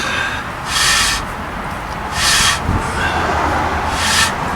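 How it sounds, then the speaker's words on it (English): A vehicle's brake backing plate scraping against the turning wheel gives a loud, steady grinding rub that swells in three long, regular bursts as the wheel rotates. "Backing plate rubs, that's nice."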